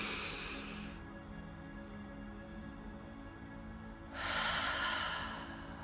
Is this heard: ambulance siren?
no